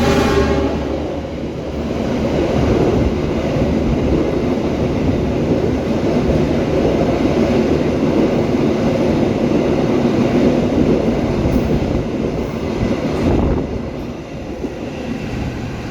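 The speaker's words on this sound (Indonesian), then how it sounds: "jalur 3 melintas langsung kereta api Gajayana Stainless Steel New Generation dari" The Gajayana stainless steel New Generation express train, running from Jakarta Gambir to Malang, rushes straight through a station without stopping, a loud continuous rumble of wheels and cars that swells, holds, and eases toward the end.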